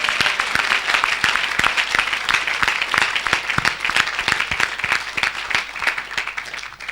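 Church congregation applauding at an evangelistic service, dense steady clapping from many hands throughout, loud and close, with no voices standing out.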